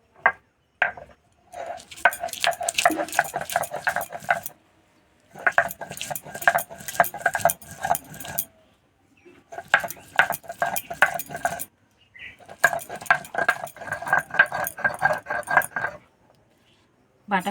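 Green chillies, ginger and chopped tomato being ground together into a paste, heard as four loud bursts of fast, rhythmic scraping strokes separated by short pauses.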